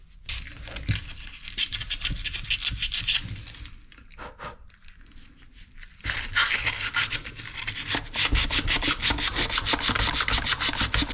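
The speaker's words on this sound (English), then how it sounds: "Upon closer inspection, I noted that there was some corrosion on these coils. So I'm going to try rubbing that off." Rough, rapid rubbing scrapes against corroded contactor coils on a rotary phase converter, close and steady with a brief lull midway before resuming more vigorously.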